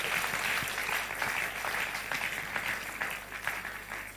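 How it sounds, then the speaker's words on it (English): An audience at a Labour Party political gathering claps for themselves, a sustained wash of many hands applauding at a steady level for several seconds, with no clear speech. "Obedience, clap for yourselves."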